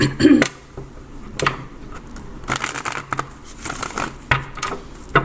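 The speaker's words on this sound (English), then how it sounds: "Let me give this one more shuffle." Tarot cards are shuffled by hand in a series of quick papery riffles and taps, close up, uneven in rhythm, with no talking.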